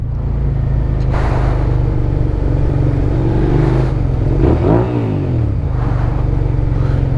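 A 1999–2002 Suzuki SV650S motorcycle engine revs up under wind rush, a loud, close V-twin drone that climbs in pitch as the bike accelerates, with a brief dip and rise through a gear change.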